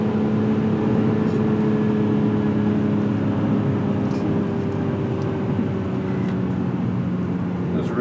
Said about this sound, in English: Those revs are crazy.